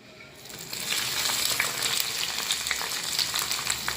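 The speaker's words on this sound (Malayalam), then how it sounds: "നമുക്ക് നമ്മുടെ കറിയിലേക്ക് കടുക് വറുത്തത് ഇടുകയാണ് നമ്മൾ." Freshly fried mustard seed tempering is poured into beetroot pachadi, setting off a loud, steady, close sizzle that starts after a brief quiet moment and holds throughout with no talking.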